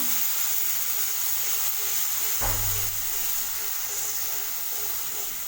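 Ground shallot paste sautés in hot oil for a Tamil chicken gravy, giving a steady, close sizzling hiss throughout with one brief low thump partway through.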